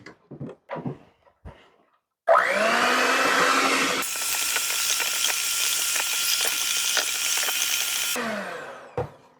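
An electric mixer whips keto bread batter made with five eggs, a loud, continuous motor whir lasting about six seconds that shifts in tone partway through. A few short knocks come just before it starts.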